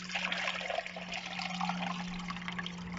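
Clean water pours steadily into a measuring container, a continuous close splashing trickle with no pause and nobody speaking.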